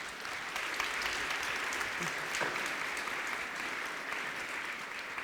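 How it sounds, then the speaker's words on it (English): An audience at a student success symposium applauds a panel with steady, sustained clapping that holds at an even level for several seconds and sounds somewhat distant in the hall. "Will you please give our panel a big round of applause?"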